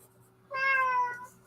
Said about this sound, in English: Maybe you have a cat.